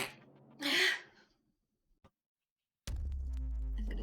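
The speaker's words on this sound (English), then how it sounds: "Sneeze." A single sharp sneeze bursts out close to the microphone, followed by a short quiet gap and then a low rumbling room noise.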